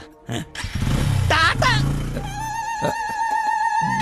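A motorcycle engine idles and revs with a steady mechanical drone, loud and close, after a brief burst of voices at the start.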